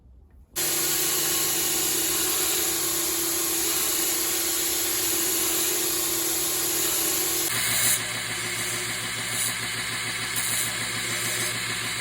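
Belt grinder running a 240 grit belt across the flats of a cowboy knife blade, a loud steady whine and motor drone that shifts in tone partway through, with no talking.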